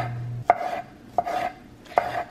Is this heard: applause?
no